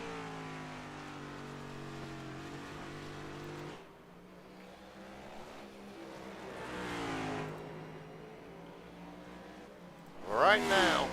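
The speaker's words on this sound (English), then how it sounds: "Frustrated, obviously, as he slams the throttle back down." A race car revs and accelerates in a sim racing league event at Charlotte Roval, its engine loud with rising and falling harmonic sweeps, then a sharp high whine near the end, with commentary over it.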